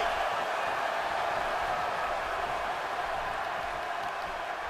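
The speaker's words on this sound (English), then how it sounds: "Would you listen to this crowd show their appreciation for these amazing competitors?" Steady broadband crowd roar and applause from a WWE 2K17 wrestling main event arena, continuous and fairly even throughout without distinct individual claps.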